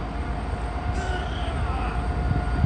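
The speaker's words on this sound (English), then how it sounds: "Oh my goodness, the blue train hath returned." A blue train in Northern Ireland rolls into a platform with a steady rumble and faint wheel squeal. Its noise is moderately loud and stays continuous throughout.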